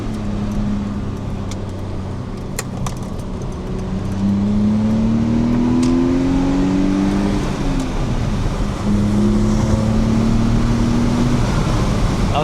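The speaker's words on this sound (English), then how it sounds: "Listen to this exhaust, dude." Manual transmission car engine and exhaust droning steadily, then revving up with rising pitch through the gears, a brief dip around a shift, and a second climbing rev, close and sustained with no talk.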